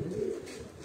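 Pigeons on a city rooftop give a short burst of low, throaty cooing, close and fairly loud, then it eases off within a second.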